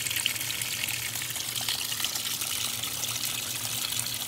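Water runs steadily into a washing machine with a triple action agitator as it fills, a continuous even rushing and trickling with no speech.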